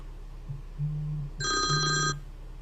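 A telephone bell rings loudly once in a short, bright, trilling burst, following a low hum and brief murmurs, with nobody speaking over it.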